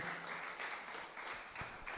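A church congregation clapping during a Feast of Tabernacles service, a short, dense patter of many hands in rough rhythmic bursts, fairly distant and lively.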